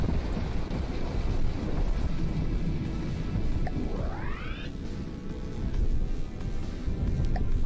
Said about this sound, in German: der Sturm tobt hier immer noch